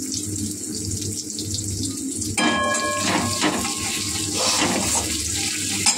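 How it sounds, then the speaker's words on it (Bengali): Spices frying in a pan sizzle quietly until water is poured in, setting off a sudden loud, rushing hiss that stays strong and bubbling for the rest of the moment, with no talk. "এবার এর মধ্যে একটু সামান্য জল দিয়ে দেবো"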